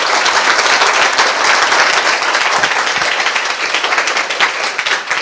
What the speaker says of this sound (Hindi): आइए उस बीज के लिए ताली बजाएं